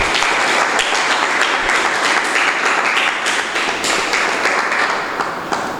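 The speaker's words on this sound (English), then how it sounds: "Give them another round of applause." Audience applause at a memorial scholarship awards ceremony, dense, loud clapping from a crowd that holds steady for several seconds and eases slightly toward the end, with no talk over it.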